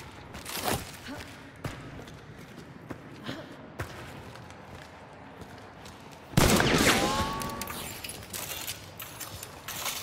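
Video game gunfire during a solo bounty hunt, aimed at a butcher enemy: scattered sharp shots ring out at irregular intervals, then a loud burst hits with a ringing tail, under quiet background ambience.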